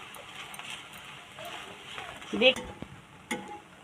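Pitha fry in a pan for dinner, with a soft sizzle and occasional stirring clatter while a person talks over it.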